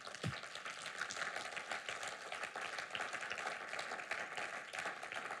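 A church congregation applauds and cheers in acclaim of Jesus during a sermon, a steady dense wash of clapping and voices that carries on unbroken throughout.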